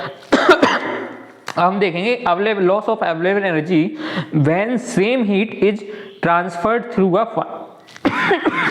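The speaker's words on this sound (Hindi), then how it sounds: "तो मेरे को खांसी हो गई है।" Several sharp coughs and throat clearing from a man giving an engineering lecture indoors, breaking up his steady Hindi-English speech, close and fairly loud.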